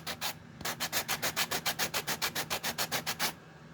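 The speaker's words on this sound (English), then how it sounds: "I'm gonna sand these butts down anyway." Pieces being sanded down by hand: a quick pair of rasping strokes, a short pause, then a steady run of about twenty even back-and-forth strokes, close and fairly loud with no talking.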